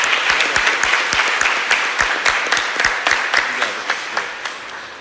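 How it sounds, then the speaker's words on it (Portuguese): Church congregation applauding after a sermon, a steady wash of many hands clapping with sharp individual claps standing out, fairly close and continuous, slowly thinning toward the end. "Vamos dar mais uma salva de palmas agradecendo nossos irmãos."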